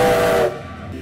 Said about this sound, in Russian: Пятитоновый свисток, звук которого был слышен за десяток километров